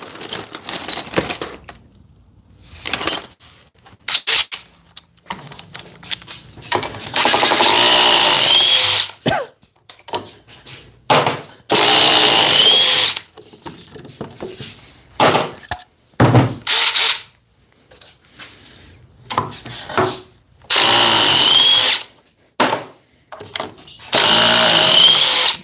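Power drill driving lag screws, with repeated loud bursts of whirring motor under load separated by pauses, some runs short and others lasting a few seconds, close and dominant.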